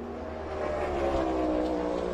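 A NASCAR Cup Series race car at Iowa Speedway roars at full throttle during qualifying, a steady, dense engine drone holding for the whole moment without a break.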